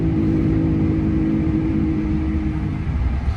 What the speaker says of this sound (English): if we go over 30 miles an hour, there's noise coming from the rear bed of this truck